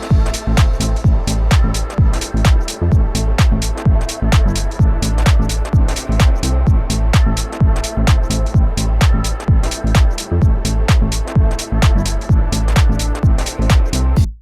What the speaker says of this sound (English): Okay, so we have created all of our ambient sounds with the Raum reverb